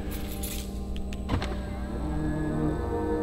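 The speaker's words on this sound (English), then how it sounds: "that is not an option on a Raptor to have the mirrors fold in like that when you lock it" Power-folding side mirrors on a Ford Raptor truck whirring as they fold in when the locked truck sits switched off, a short close motor hum with a small click partway through.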